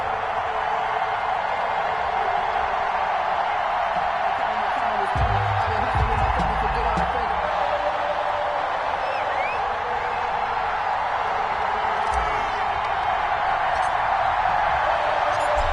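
Stadium crowd in a Madden football video game before kickoff between the London Black Knights and Kansas City Chiefs, a constant loud roar of cheering and whooping with low rumbling bursts underneath.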